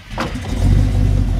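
An old-school car engine cranks briefly, catches and settles into a loud, steady rev after a quick throttle pump, heard close up with no talking.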